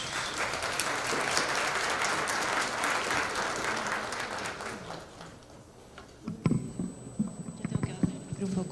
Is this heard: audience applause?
yes